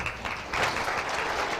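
Sustained applause from a lecture audience welcoming a German building-biology lecturer, a dense, even roar of many hands clapping that swells slightly partway through, with no voice over it.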